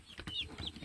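Silkie chicks and young chickens give soft, close cheeps and brief clucks on a countryside farm, quiet and closely spaced.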